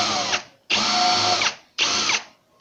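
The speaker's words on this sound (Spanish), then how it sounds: "Haré lo mismo con este tipo de brocas, que es la especial para madera" Wood drill bit boring into wood, heard as three close, loud bursts of a power drill whining under load, each stopping sharply with short pauses between.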